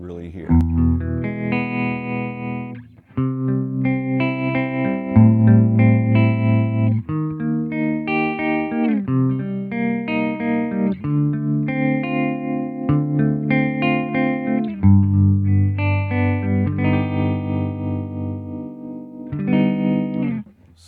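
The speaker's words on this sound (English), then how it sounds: "Super warm. You can just feel that tremolo" Warm electric guitar chords with a pulsing tremolo wobbling the volume, played through a Supro Black Magick Reverb amp at a steady moderate level with no talking.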